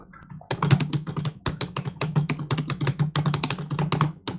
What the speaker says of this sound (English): All I'm saying is this live stream is just full of keyboard.